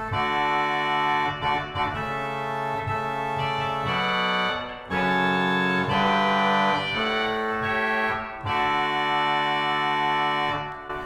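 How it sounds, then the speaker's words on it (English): Pipe organ playing the trumpet reed stop on the great manual by itself, a bright, brassy sustained melody with held chords and short phrases, full and steady in a reverberant space. "This is the organ, trumpet on the grate by itself."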